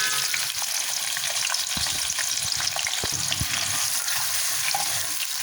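Two large chopped onions fry in a pan for chicken masala curry, giving a loud, continuous hiss and sizzle with scattered spatter crackles and occasional stirring knocks, with no talk.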